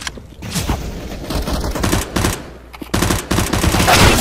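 Rapid gunfire bursts in Counter-Strike: Global Offensive, loud and close, with short volleys broken by brief pauses over about four seconds.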